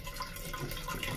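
Water pours from a magic decanter in a short, soft, steady trickle heard close and fairly quiet, with no talk.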